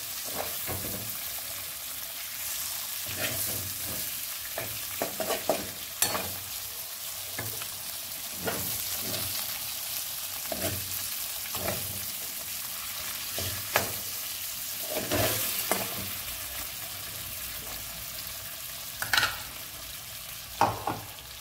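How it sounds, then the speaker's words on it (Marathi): Spices frying in a covered pan for a Maharashtrian fish tempering, a continuous sizzle punctuated by repeated muffled pops and lid or utensil knocks, steady and close with no voices. "म्हणून झाकून फोडणी दिली आज"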